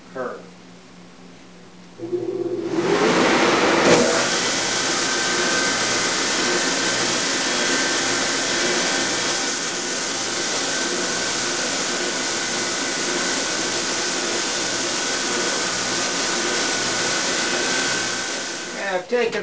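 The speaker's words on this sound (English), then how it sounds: "Now I'm going to use the edge sander to smooth it out and make a nice evenly fair curve." An edge sander smooths a curved wooden edge for a sculpture stand, starting after a quieter moment and running loud and continuous with a steady high whine and abrasive hiss for most of the span, easing slightly at the end.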